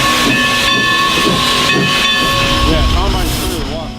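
Everett Railroad steam locomotive No. 11 with its coaches departs the Hollidaysburg depot: steady loud hiss of escaping steam, with sustained whistle tones and mechanical chuffing close by throughout.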